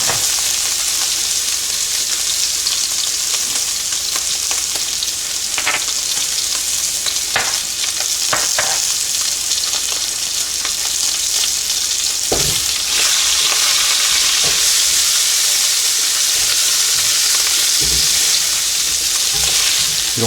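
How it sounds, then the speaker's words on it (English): Shrimp seasoned with salt and pepper sizzle and fry steadily in a hot oiled pan for a chicken and shrimp stir fry, a loud continuous crackle with occasional sharper pops and stirring scrapes. "So first thing I'm gonna do is throw my shrimp in there and season them salt and pepper only."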